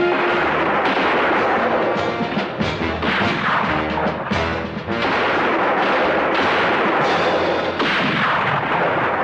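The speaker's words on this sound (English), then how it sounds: "Use the rifle." Rifle gunfire in a Western gunfight, a loud, dense stretch of shots and echoing reports that keeps going almost without pause, close and dominant, with no talking.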